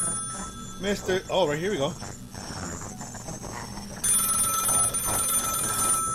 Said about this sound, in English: Okay, there's a phone ringing.